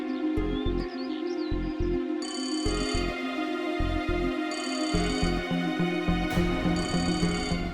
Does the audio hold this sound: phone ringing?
yes